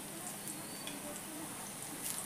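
Kurmure (puffed rice) patties fry in oil in a pan, giving a steady close hiss and sizzle with faint pops and no talking.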